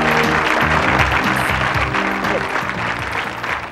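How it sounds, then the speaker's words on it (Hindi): A studio audience at a televised spelling game show applauds a girl who brought honour to her district and country, a loud, steady wash of clapping with tonal music running underneath throughout. "इसके लिए जोरदार तालियां बजा दीजिए।"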